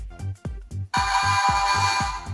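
Short electronic beeps and bleeps from a Mattel Electronic Basketball handheld game in its improved-sound rerelease play in a quick rhythmic pattern, then break into a sustained buzzy electronic tone.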